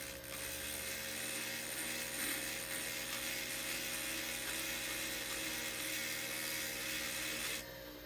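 A flexshaft rotary tool grinds away excess silver solder in a steady, continuous high-pitched whine that runs unbroken at close range and stops just before the end, with no talking over it.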